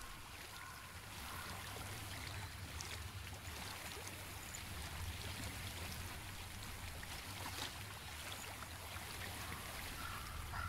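Steady stream water flowing and trickling in the video game Hellblade, a continuous soft wash that stays even and fairly quiet throughout, with no voices.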